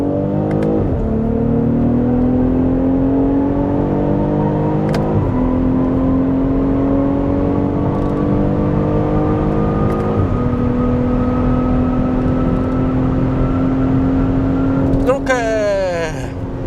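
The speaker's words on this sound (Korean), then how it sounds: "변속기는 좌측으로 밀어서 S 모드 상태에서 가속 페달만 전개해서 진행을 해 보도록 하겠습니다." A BMW X6 xDrive 40i M Sport accelerating at full throttle in S mode, its engine climbing steadily through several gears with brief dips at each upshift, heard loud from inside the cabin, finishing in a quick burst of revs.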